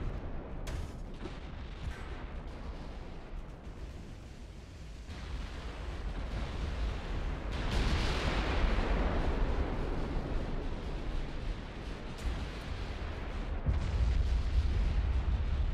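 Naval gunfire from warships in the Ultimate Admiral: Dreadnoughts game, a continuous rumbling barrage of distant booms and rolling blasts that swells louder partway through, with no talk over it.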